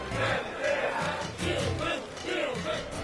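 A crowd gathered in Times Square at an outdoor event for a skateboarding bulldog rumbles with overlapping voices and shouts, swelling in waves of cheering at moderate distance.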